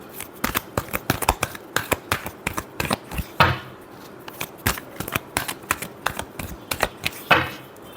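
Tarot cards are shuffled by hand in a steady run of sharp, rapid flicks and riffles, close and crisp, with brief bursts and short gaps and no talking.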